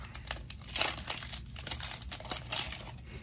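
Close, continuous crinkling and tearing of a foil Pokemon Scarlet & Violet 151 booster pack wrapper being ripped open by hand, with sharper crackles throughout.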